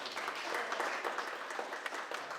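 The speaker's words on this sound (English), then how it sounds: "here applause is warranted" An audience at a spring update event for the historic Miss Bellows Falls Diner breaks into sustained applause, many hands clapping in an even, fairly faint wash with no voices on top.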